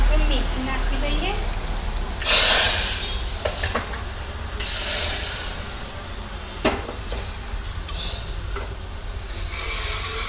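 Asafoetida, ajwain and fenugreek hit hot oil for Gujarati dal, giving loud, sharp bursts of sizzling hiss that flare up, then settle into a softer crackle between spurts.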